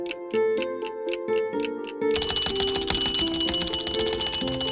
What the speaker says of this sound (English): Can you help Donald quiet his alarm clock?